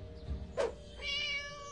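A cat meows in a video game, one short close meow followed by a longer drawn-out one, over a faint game backdrop with no talking.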